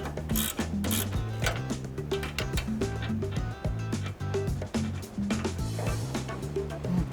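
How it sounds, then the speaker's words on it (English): 17mm ratcheting wrench turning a ball joint nut on a Ford F-150 front suspension, rapid rhythmic clicking bursts of the ratchet pawl, close and clear with no talk. "with this nut for the upper ball joint and the sway bar nut, I use a 17mm ratcheting wrench"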